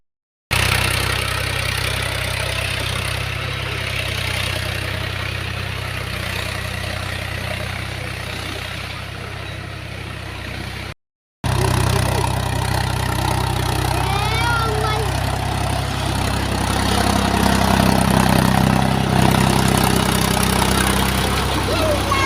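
A tractor stuck in a village field runs with a steady low engine rumble that continues throughout, broken by one very brief cut, and grows slightly louder near the end.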